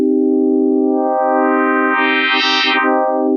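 An Elektron Digitone FM synth holds a sustained note that turns glassy, harsh and metallic as bright upper overtones swell in toward the end, clean and up close.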